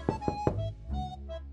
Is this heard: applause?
no